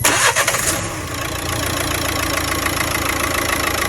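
Nissan Juke engine starting after an injector overhaul: a brief cranking whir catches within a second, then settles into a steady, even idle, loud and close.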